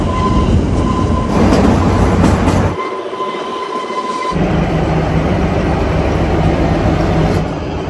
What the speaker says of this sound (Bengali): এই হচ্ছে আমাদের ট্রেন শিবালিক এক্সপ্রেস